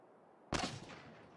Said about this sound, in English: Did you hear that gunfire?